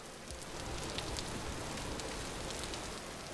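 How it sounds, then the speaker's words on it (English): Steady rainfall in the sandbox game Vintage Story, a soft continuous patter with no voices, constant and moderately quiet throughout. "I feel like it's always raining in this area too"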